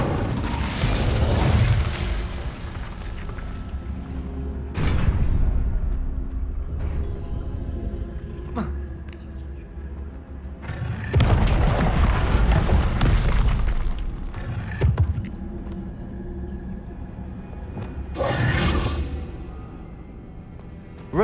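Fire spells burst in Hogwarts Legacy, booming whooshes and crackling blasts repeating every few seconds over a dense rumbling game soundscape, with sharp bright flares and small clanks between them.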